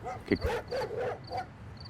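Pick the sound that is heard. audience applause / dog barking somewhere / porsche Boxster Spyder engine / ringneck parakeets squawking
dog barking somewhere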